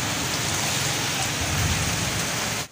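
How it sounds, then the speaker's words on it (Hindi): Heavy rain pours down steadily in Lahore, a dense, continuous hiss of downpour close by with no voices, cutting off abruptly at the end. "बहुत तेज बारिश हो रही है, पानी भर जाएंगे।"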